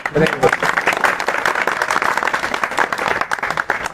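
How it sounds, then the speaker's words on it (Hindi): Indoor audience at a Hindi comedy talk applauding, a dense steady patter of many hands clapping throughout, fairly close and loud, with a voice briefly audible underneath. "जोरदार आप लोग ताली बजाइए"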